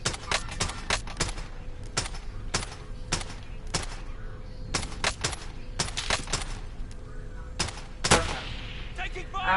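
Rapid bursts of gunfire in the Apex video game, repeated sharp shots and volleys spread across the whole stretch, loud and close, with brief voice chatter mixed in.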